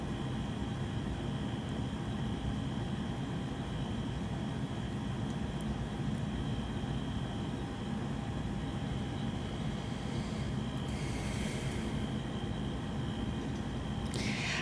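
A police helicopter hovers overhead, giving a constant, loud, broad rotor-and-engine roar that holds level throughout without fading or changing pitch.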